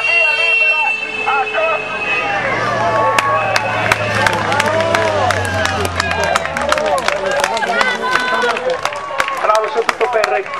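Roadside crowd clapping and cheering as cyclist Corradini reaches the finish of the Recanati–Ussita youth race, dense continuous applause with sharp claps over crowd noise and a commentator talking throughout.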